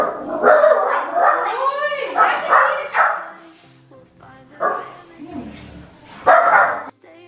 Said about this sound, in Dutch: die blaft op alles wat voorbij komt of wat ze in de tuin ziet gebeuren. En ja, dat is heel luid.